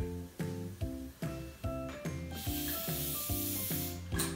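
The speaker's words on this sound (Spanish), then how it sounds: "Sueltas un poco y vuelves a inflar." A hand pump inflates a modelling balloon, giving about nine regular rhythmic strokes, each a tonal wheezing push of air, with a louder rushing hiss toward the end.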